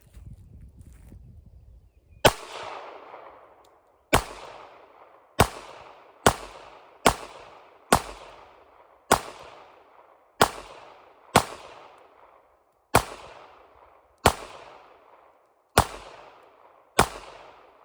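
A Ruger LCP Max handgun fires about twelve sharp, loud reports at an uneven deliberate pace, each crack followed by a short ringing decay outdoors, with a brief low rumble before the first shot.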